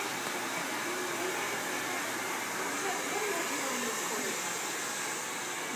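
A hair dryer blows steadily on hair after a haircut, a loud, continuous whooshing hiss from start to finish, with faint voices talking underneath.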